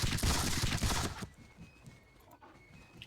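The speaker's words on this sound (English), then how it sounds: "we'll start to open fire and exchanging musket fire with the Russians" A volley of musket fire from a Seven Years War battle game, the Battle of Zorndorf against Russians, crackles as a dense loud burst for about a second, then drops to quiet background ambience.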